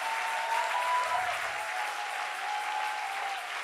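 Congregation at a church service in Kinshasa-style worship applauding and acclaiming, steady dense clapping and cheering throughout, moderately close and sustained without a break.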